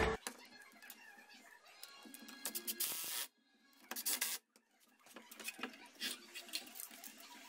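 A screw is driven into a steel banded log spacer, with a few short bursts of whirring and grinding separated by quiet gaps and faint handling noises, close and fairly soft.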